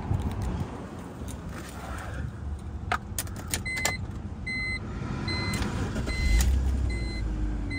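Keys jingle and click near a 2005 BMW E46 325i automatic sedan, followed toward the end by a low engine crank and start that swells into a steady idle, all fairly quiet.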